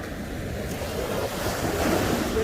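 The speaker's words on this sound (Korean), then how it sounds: "밀물 때 파도 소리는 이렇게 좀 매서워요." Strong surf at high tide on a Jeju beach rolls in as a steady, loud wash of breaking waves, rising slightly toward the end, with some wind rumble on the microphone.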